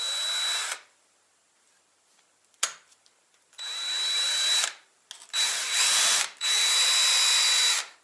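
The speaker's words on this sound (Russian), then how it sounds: "Берем саморез и под углом загоняем его." A self-tapping screw is driven at an angle into an aerated concrete (gas block) wall with a power drill, heard as several loud whirring bursts separated by short pauses and a sharp click.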